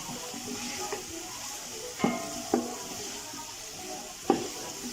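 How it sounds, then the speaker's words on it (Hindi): Potatoes fry in oil in a pot for beef yakhni pulao, with a steady soft sizzle close by. Several sharp knocks from stirring against the pot break in at irregular moments, and there is no talking. "जब ये आलू भी इसके अंदर फ्राई हो गए हैं"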